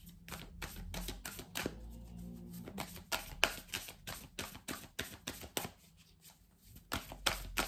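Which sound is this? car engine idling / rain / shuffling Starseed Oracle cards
shuffling Starseed Oracle cards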